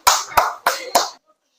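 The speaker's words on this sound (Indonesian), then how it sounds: "tepuk tangan untuk Riki." A classroom in Indonesia claps for a student: four crisp, evenly spaced claps close by, then a brief quiet.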